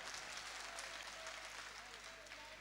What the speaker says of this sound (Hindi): एक बार जोरदार ताली आप रूपेश भाई की तारीफ के लिए बजा दें।